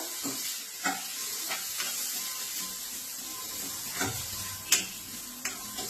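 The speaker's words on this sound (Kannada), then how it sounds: "ಒಂದು 4 ಕರಿಬೇವು ಬೇಕು. ಇದನ್ನು ತಾಳಿಸ್ಕೊಂಡು" Coriander and curry leaves crackling as they temper in hot oil in a pan, a steady sizzle with sharp pops and a few spoon scrapes, close and unbroken by talk.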